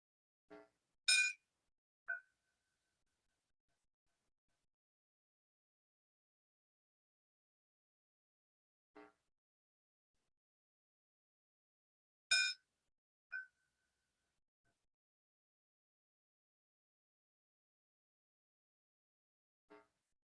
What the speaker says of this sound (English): he has agreed to ring this bell in honor of the veterans, our current military or future veterans, and our first responders